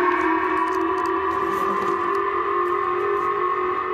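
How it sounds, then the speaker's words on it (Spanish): Missile alert sirens sound across Hokkaido, Japan, early in the morning: a steady, sustained wailing tone with echoing reverberation, loud and unbroken for the whole stretch, with no voices over it. "El ruido de las sirenas a primera hora de la mañana"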